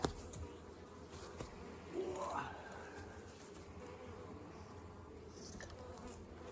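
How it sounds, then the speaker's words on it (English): Wasps buzz around beehives in August, a close, faint, whining hum that rises and falls as insects fly near, over a low background hiss. "Kill all these wasps."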